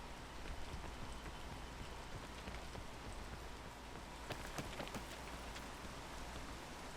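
Steady rain falls outdoors along a hillside trail near a summit, a dense, even hiss with scattered drops standing out, heard alone at a quiet level.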